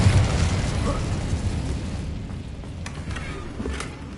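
The Incendio fire spell cast in the video game Hogwarts Legacy produces a loud, sustained roaring whoosh of flame that fades slowly, with a few faint crackles toward the end.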